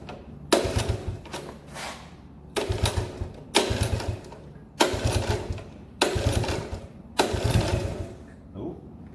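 A Honda ATC 70 three-wheeler being kicked over sputters in six short, loud bursts, each catching briefly and then dying away, spaced about a second apart with quiet gaps between.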